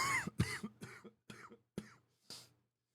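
A series of about six sharp, close coughs, spaced irregularly, with brief quiet gaps between them.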